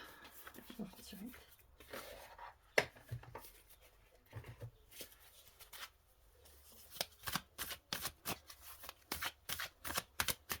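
Tarot cards being shuffled and drawn, soft papery riffles and quick card snaps, close and fairly quiet, growing into a rapid run of flicks near the end, with someone speaking French in between.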